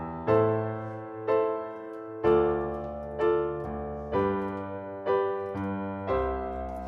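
A chord progression with roots moving down by fifths, struck as seven sustained chords at an even, unhurried pace, each attack decaying before the next, played alone without speech.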